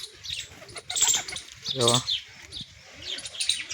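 Pigeons kept in a home loft, quick bird chirps and a short throaty call with faint wing movement, heard close with someone speaking briefly in the background.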